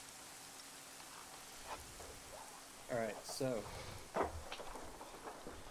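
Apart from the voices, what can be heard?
loud rain in a military video game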